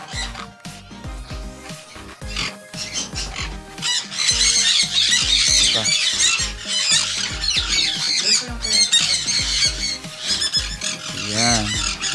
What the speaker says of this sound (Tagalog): Ang lakas ng boses ng mga sand kunur.